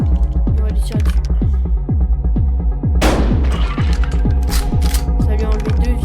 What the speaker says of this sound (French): Et on va lui tirer dessus.